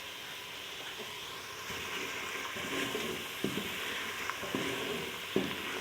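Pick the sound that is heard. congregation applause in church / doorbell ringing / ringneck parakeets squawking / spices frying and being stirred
spices frying and being stirred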